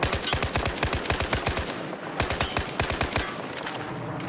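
Burst fire from an automatic rifle such as the SCAR in the Battlefield 4 shooter game, loud rapid volleys of shots split into two close bursts by a brief pause.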